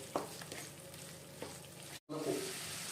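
Spice masala frying and being stirred in a pan for a Bengali tel koi fish curry, a soft close sizzle with a few spoon scrapes, interrupted by a momentary dropout.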